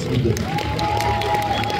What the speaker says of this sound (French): Est-ce qu'on peut applaudir le professeur Tour de Sol